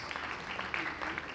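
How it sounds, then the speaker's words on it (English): Steady audience applause at a university College of Education annual conference, a dense wash of clapping from a large crowd, moderately loud and continuous with faint talk mixed in. "Keep clapping for her, please."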